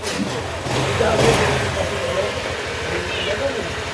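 A car engine idles steadily nearby with a low rumble and a brief rise around the second second, while a voice talks over it; the engine has a crankshaft noise and cutting-out fault.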